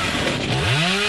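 A chainsaw in Dead by Daylight revs loudly and close, with a continuous roaring engine note that rises in pitch.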